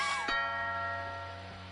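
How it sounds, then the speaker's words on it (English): A doorbell in the video game What Remained of Edith Finch gives one quiet chime whose tone lingers and slowly fades over a low steady hum. "Ding dong."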